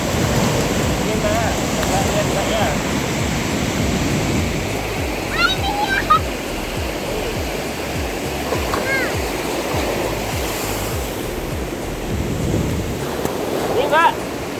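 Ocean waves on a white-sand beach wash in as a steady broadband roar, with faint chirps and small knocks scattered over the surf.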